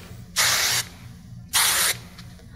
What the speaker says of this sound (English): take your hairspray, shake it up, hold up the waves, and mist it.